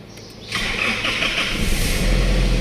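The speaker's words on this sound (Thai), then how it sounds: "ฟังเสียงเครื่องยนต์กันหน่อยนะครับ" A Nissan Navara NP300 pickup truck engine cranks and catches, then settles into a loud, steady rumble with a slight rise in revs toward the end.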